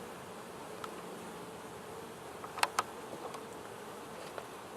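Honeybees buzzing around an open hive during brood nest expansion into a second box, a faint steady hum with a few brief louder passes close to the microphone and no talk.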